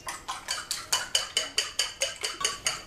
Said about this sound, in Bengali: প্রথমেই আমি যেটা করব 2টা ডিমকে খুব ভালোভাবে ফেটে নেব